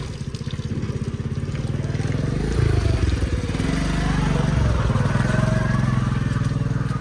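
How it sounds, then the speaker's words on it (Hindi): A motorcycle engine idles and revs close by with a steady low rumble for the whole stretch, getting a little louder partway through as the bike comes in through a home gate. "बाइक हमारे जो है ना वो अंदर आ चुकी है"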